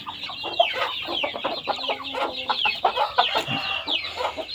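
Several young fighting chickens, two to four months old, cluck and chirp busily at close range, a continuous overlapping chatter of short calls with no talking.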